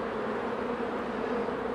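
Honeybees drone in a steady, close buzz inside a hive with laying workers, a brief unbroken hum without speech.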